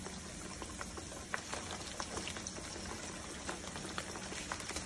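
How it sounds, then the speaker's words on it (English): Liquid bubbling steadily in a pan as fish cooks, a dense continuous sizzle with small pops scattered throughout, close and fairly loud with no talking. "You see it bubbling like that?"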